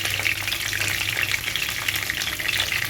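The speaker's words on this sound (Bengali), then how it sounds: "পটলগুলো একটু লাল করে ভেজে নেব" Pieces of pointed gourd (potol) fry in hot oil with a dense, crackling sizzle that carries on steadily and close up, with light stirring under it and no one talking.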